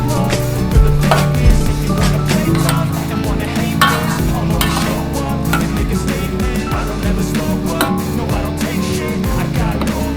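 Chicken opor is stirred in a pan, with continuous loud scraping and clinking of a utensil under a dense sizzle, with no voices.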